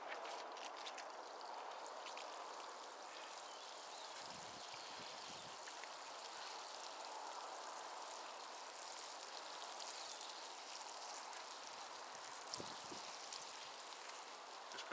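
Water from a watering can pours onto boxes freshly sown with chitted carrot seed, a steady close trickle and patter of water soaking into soil that runs unbroken throughout.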